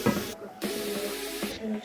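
Onions hiss and sizzle in melted butter in a pan for a chicken blanquette, a steady close frying spray broken by two short pauses.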